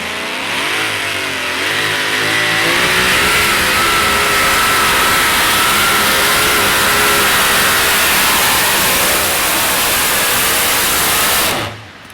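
At a truck pull, the engine of a modified two-wheel-drive pulling truck roars loud and steady for about eleven seconds, climbing in pitch and then holding a harsh, sustained wail before cutting off abruptly.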